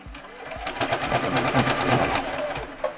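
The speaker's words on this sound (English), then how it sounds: "I'm going to do a back stitch at the beginning and when I get to the other top edge." Sewing machine stitching the seam of a quilted drawstring bag, a steady close mechanical whirr of rapid needle strokes running continuously for a few seconds.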